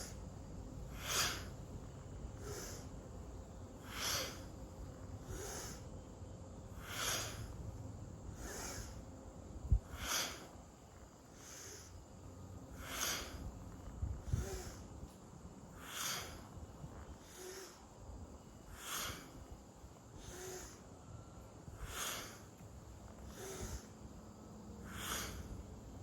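Forceful nasal breathing during a breath-work exercise, rhythmic inhales and exhales about every 1.5 seconds through the nose, steady and fairly quiet, with a faint low hum underneath and no talking.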